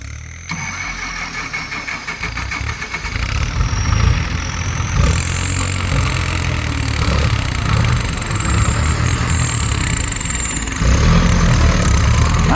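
An old single-axle Ford truck engine runs steadily in reverse gear with a high gear whine above it. The drone is loud and close, holds for the whole stretch and rises slightly after a few seconds. No one speaks.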